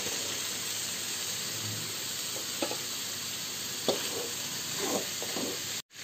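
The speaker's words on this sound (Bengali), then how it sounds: "সিদ্ধ করা কাঁঠাল এর মধ্যে দিয়ে দিচ্ছি।" Boiled jackfruit pieces dropped into a pan of fried spice paste give off a steady sizzling hiss, with a few brief stirring scrapes and clinks near the end.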